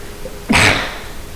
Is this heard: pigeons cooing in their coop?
no